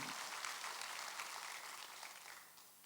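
Congregation clapping in a church during a Sunday worship service, a steady dense patter of many hands sustained for about three seconds, fairly faint and fading slightly toward the end.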